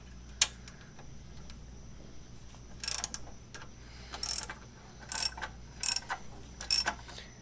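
Wrench loosening a bolt on a Corvair, heard as a series of sharp ratcheting clicks in short irregular bursts, close by and fairly quiet against a low background hum.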